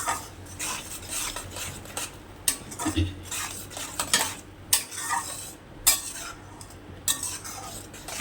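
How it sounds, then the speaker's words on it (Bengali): A spoon or spatula scrapes and clinks against a pan while yogurt masala is stirred and sautéed on low heat, irregular metallic knocks and scrapes over a faint background sizzle, with no talking. "আস্তে আস্তে এটা কষিয়ে নিতে হবে"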